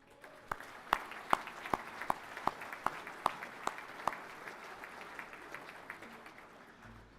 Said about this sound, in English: A round of applause to both Davids